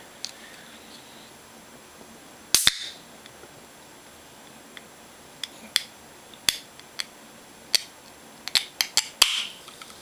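A 1985 New Coke bottle top being opened gives a sharp pop followed by a series of short clicks and snaps, each distinct and fairly close, with quiet gaps between them and no talking.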